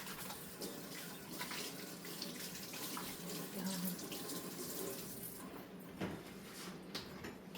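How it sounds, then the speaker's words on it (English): Hands washed under a running kitchen tap, a steady close rush of water with splashing changes as the hands move, continuing throughout with a faint thump partway through. "I'm gonna wash my hands real quick"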